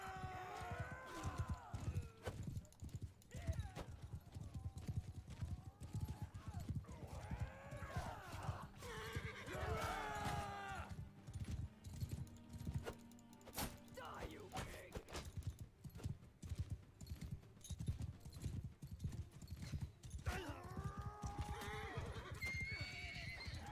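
Horses in a Mount and Blade II: Bannerlord battle neigh and whinny repeatedly over a steady drumming of galloping hooves, loud and close, with several calls spread through the scene.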